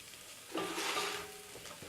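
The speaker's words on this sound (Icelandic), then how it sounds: "hræri síðan upp í og læt þetta steikjast aðeins með" Mushrooms coated in flour, with thyme, fry and sizzle in a pan while being stirred; a steady hiss swells after a quiet start and then settles back down.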